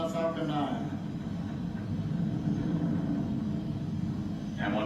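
A SpaceX Falcon 9 rocket climbing through supersonic flight gives a steady low rumble and roar, with a voice talking over it.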